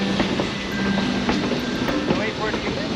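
A narrow-gauge train of the Cumbres and Toltec line rolls in on the 4th of July: a steady rumbling clatter of cars with faint rhythmic wheel clicks and a thin squeal, fairly close and continuous.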